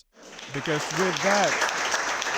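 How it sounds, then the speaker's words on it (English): Applause for portfolio startups at a business summit showcase, rising and holding steady under a brief stretch of speech near the start. "now let's give another round of applause to our portfolio startups"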